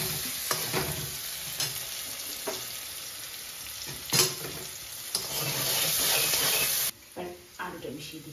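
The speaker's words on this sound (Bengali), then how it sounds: "তারপর আমি এই ম্যাশ করে রাখা পোটাটোটা মিশিয়ে দেবো।" Mashed potato is stirred into a hot frying pan, with a steady sizzle and scraping stirs of a spoon coming up close, and a brief louder hiss near the end.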